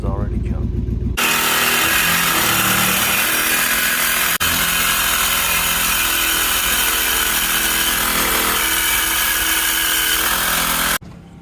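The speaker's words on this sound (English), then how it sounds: "we are cutting out the mufflers because the exhaust is already jumped" A power saw cuts the mufflers out of a Chevy Tahoe exhaust in an off-road truck build, a loud continuous rasping roar that starts abruptly, holds steady for about ten seconds, then cuts off.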